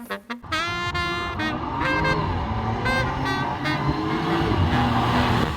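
An Audi 3.0T supercharged engine gives off a high, tonal, rising whine like a baby crying, loud and close over the engine's low rumble, climbing and falling in pitch as the revs change.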